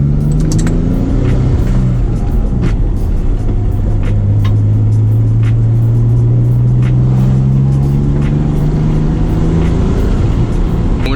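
A Nissan 350Z/370Z with a VQ engine idles and runs in gear, a steady low rumble that rises slightly in pitch, continuous and close throughout.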